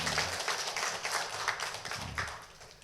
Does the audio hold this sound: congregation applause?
yes